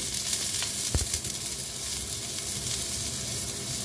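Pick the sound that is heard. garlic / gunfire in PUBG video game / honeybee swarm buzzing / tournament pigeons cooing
garlic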